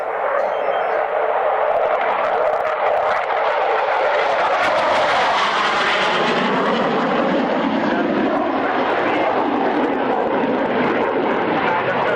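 An aircraft makes its first pass at the Woodford airshow, a loud, sustained engine roar that rises and then sweeps down in pitch as it flies by, with a commentator's voice under it.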